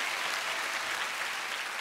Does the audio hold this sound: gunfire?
no